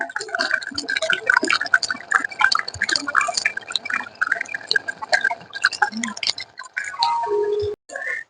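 Khichuri simmers and bubbles in a pot with salt and sugar added, giving a dense stream of close popping, dripping and plopping bursts that thin out toward the end, with no talking.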